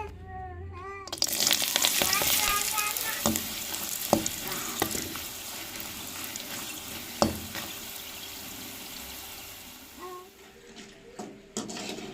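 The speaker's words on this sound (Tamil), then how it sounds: "நம்ம மிதுக்கு வத்த வாங்கியிருக்கோம், வறுத்து எடுத்துக்கிறோங்க." Dried turkey berries fry in hot oil in a home kitchen, giving a steady close sizzle with occasional clinks from a stirring spoon against the pan.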